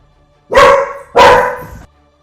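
A dog barks twice, loud and close, each bark sharp with a short tail, separated by a brief pause and followed by near silence.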